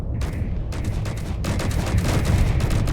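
Rapid, continuous gunfire from a ship's weapon batteries in the space game Space Engineers, a dense crackling barrage that holds steady and grows slightly louder over a few seconds, with no pauses.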